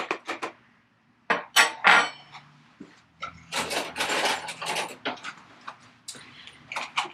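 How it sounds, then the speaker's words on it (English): Knife whisking a mixture in a bowl for a microwave cinnamon roll, heard as close, irregular bursts of metallic clinking and scraping with short pauses between strokes. "I'm gonna try to whisk it together with my knife here"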